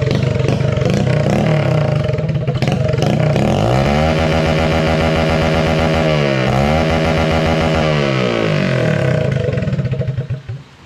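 Mini motorcycle fitted with a 230 CDI and a straight-through exhaust, its engine loud and close, idling roughly, then revving up and down in two long swells before cutting off at the end.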